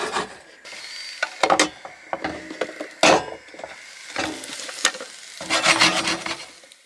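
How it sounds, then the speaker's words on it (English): A pasty with potato, onion and tomato fries in a pan, with scraping and stirring against the pan and a light sizzle coming and going in uneven bursts, close by, with no voices. "So now I'm just going to fry it up."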